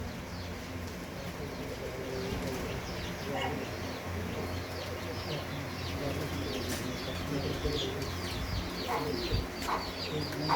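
Breeder and flying pigeons coo in soft repeated murmurs under a busy, noisy background with chirps from other birds.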